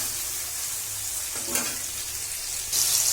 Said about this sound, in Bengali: যদি একটু ভাজা ভাজা হয়ে যায় তাহলে মটরশুঁটির কাঁচা গন্ধটা একটু কম আসে।